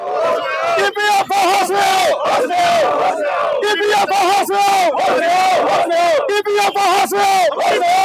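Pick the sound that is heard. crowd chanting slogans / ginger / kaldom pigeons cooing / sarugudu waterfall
crowd chanting slogans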